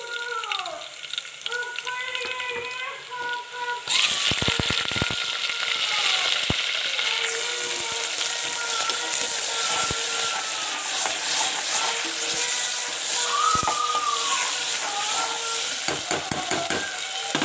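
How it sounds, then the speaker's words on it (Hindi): Tomatoes and green chillies roast in a pan for chana dal pulao, giving a bright continuous sizzle that jumps louder partway through, with scattered clinks and scrapes of stirring. "हमारे टमाटर रोस्ट हो रहे हैं"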